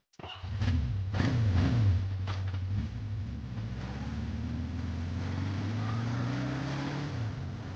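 A car engine hums steadily nearby, starting abruptly and holding a continuous low drone as the vehicle drives along.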